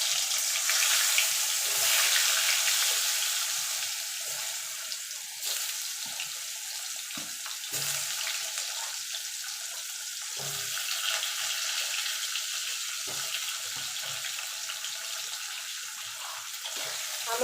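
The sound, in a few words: potatoes frying in oil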